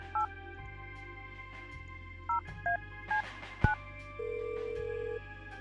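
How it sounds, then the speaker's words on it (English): Telephone dialing in the Kathy Rain game: a sequence of short touch-tone beeps, roughly five evenly spaced, followed by a longer steady tone, heard clearly over a faint hum with no talk. "Oh, duh. I gotta pick up the phone first."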